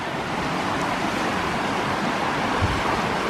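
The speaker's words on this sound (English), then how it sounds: "See all this water rushing down" Rushing water roars down a stream at Monte Sano Nature Preserve, Alabama, in a continuous broadband wash, loud and close, a steady flow with no pauses and no voices.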